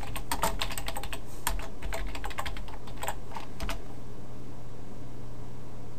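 Rapid clicking of computer keys in a quick burst while typing command-line commands, then stopping, leaving a steady low hum in a quiet room.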